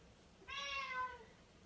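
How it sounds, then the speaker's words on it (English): A house cat lets out a single short, clear meow indoors, close but fairly soft against a quiet background. "That was my cat making a cameo."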